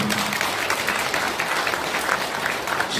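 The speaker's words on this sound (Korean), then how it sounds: "박수 한번 쳐주세요." At a Korean lawmaker's 2024 constituency report meeting in Gwanak, a hall audience breaks into full, dense applause that holds steady and loud throughout.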